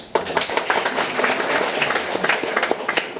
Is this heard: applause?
yes